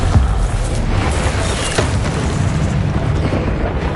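A Confringo blasting spell exploding in a wizard-duel video game, a dense, continuous rumbling boom filling the whole stretch, loud and close with no pauses.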